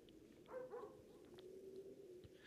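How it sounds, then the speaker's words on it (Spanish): Dog barking as a background sound effect in the LOST video game, faint, distant barks and whimpering yips spread across a low, steady ambient bed, no voices. "El efecto de sonido que hay de fondo, un perro ladrando"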